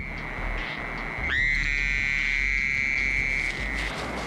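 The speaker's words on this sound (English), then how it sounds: "male North American toads call out to females." Male North American toads calling at night, a long sustained high trill beginning abruptly and holding for a couple of seconds over a faint steady background, with another trilling voice present throughout.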